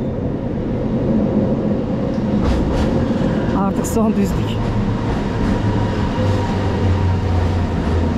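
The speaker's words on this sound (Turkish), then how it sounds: "Sonunda KLCC'ye giden tren geldi." A KLCC-bound metro train pulls into a station in Kuala Lumpur, Malaysia, a steady rumbling roar that swells and holds throughout, with brief screeches mid-way; someone speaks briefly over it.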